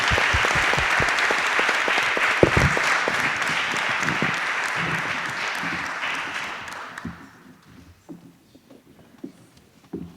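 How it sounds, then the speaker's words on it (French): Audience applause at a scientific conference day, a dense steady clatter of many hands that fades out around seven seconds, leaving sparse scattered claps and quiet room noise. "Je pense qu'on peut vous applaudir pour vous être prêtés à ce jeu"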